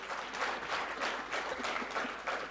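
An audience at a talk applauds in an even, continuous wash of clapping at moderate loudness, with no voices over it.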